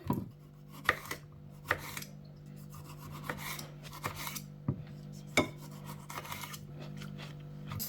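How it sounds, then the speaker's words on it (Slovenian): A tomato sliced for salad on a cutting board, with sharp, irregular knife knocks over a low background hum. "Salata, še paradajz narežemo."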